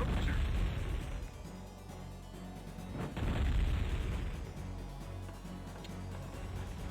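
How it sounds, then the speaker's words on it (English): Ship cannons pounding buildings in the Warcraft 2 real-time strategy game, two or three muffled booming impacts spaced a couple of seconds apart over low ambient rumble, fairly quiet and without speech. "You'd think the ships would deal a bit more damage against buildings considering they have cannons, but not really."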